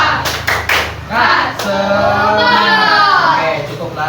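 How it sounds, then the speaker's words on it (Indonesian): Schoolchildren in an elementary classroom clap together in a quick rhythmic pattern, bursts of sharp claps alternating with a teacher's voice and children's chanting, close and loud. "Sekarang kita tepuk semangat."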